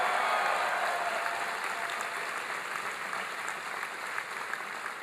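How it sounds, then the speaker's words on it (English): A town hall crowd in Green Bay claps for Governor Jim Doyle, a dense, sustained round of applause that stays even and gradually thins slightly toward the end. "Your outstanding governor, Jim Doyle, is here. Give him a big round of applause."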